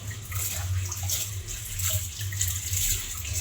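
Tap water runs steadily into a sink while something is washed, a close continuous splashing rush with slight fluctuations and no talking.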